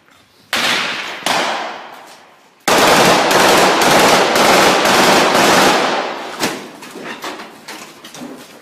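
Heavy gunfire in combat at an airport in Ukraine: loud, close bursts of automatic fire, first two short volleys, then a long sustained burst and scattered shots trailing off.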